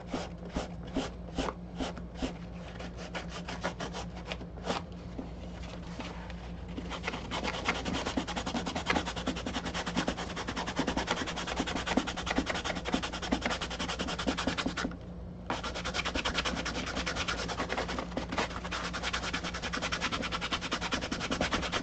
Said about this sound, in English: I'm going to sand a little bit more space into there